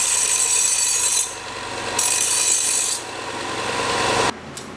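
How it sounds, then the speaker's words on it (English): A belt sander grinds burrs off freshly cut exhaust pipe for a twin-turbo LS Malibu, giving a loud continuous rasping hiss in several bursts, with a brief quieter gap and an abrupt cutoff near the end. "Then we just give it the quick once over on our belt sander just to remove like the little burrs"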